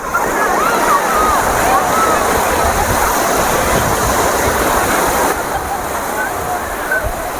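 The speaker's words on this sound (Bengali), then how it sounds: "সমুদ্রের অবস্থাটা দেখুন, কত বড় বড় ঢেউ আসছে।" A loud, continuous roar of big ocean surf crashing close by on the beach at Puri, a steady wash of water noise with no break.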